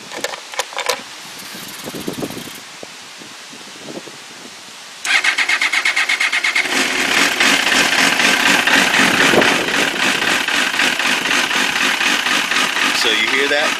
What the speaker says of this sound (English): So that's a very uneven idle.